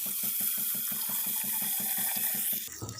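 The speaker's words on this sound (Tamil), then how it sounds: "இப்போ நம்ம வச்சுருக்க இந்த புளி தண்ணியை ஊற்றிக்கலாம்." Tamarind water is poured into onion rasam in a home kitchen, a steady, close liquid splash and trickle that runs continuously before ending abruptly.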